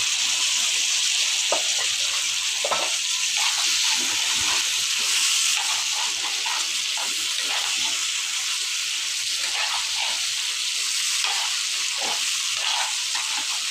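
Curry sizzles hard in a hot pan after water is poured in, a loud continuous hiss and crackle with bubbling and occasional stirring clinks, close and steady throughout without speech.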